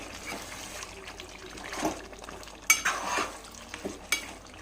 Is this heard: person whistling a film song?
no